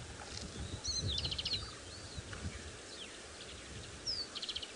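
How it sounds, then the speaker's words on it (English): Birds calling from bushes along a river edge during an early-morning safari drive, with scattered chirps and short trilled phrases at modest distance over soft rustling and low background rumble. "you can already hear there's quite a lot more bird activity around the river edge where there's some bushes"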